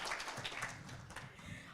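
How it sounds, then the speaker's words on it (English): Audience applause at a halal travel global summit awards ceremony in Singapore, steady dense clapping from a crowd that holds throughout without letting up. "Let's give him another round of applause for his tremendous effort."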